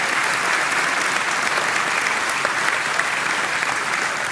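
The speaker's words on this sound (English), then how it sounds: "Can I get a round of applause for them," Audience at a Reform party rally in Hampshire breaks into steady, dense applause, a continuous wash of many hands clapping at even loudness throughout with no talk over it.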